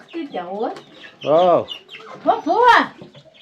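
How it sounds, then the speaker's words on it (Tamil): Hens and chicks cluck and squawk in short bursts close by, three distinct clucking calls with brief pauses between them. "கோழி குஞ்சு இங்கே பாருங்க, கோழி குஞ்சு பசியில் நிற்கிது."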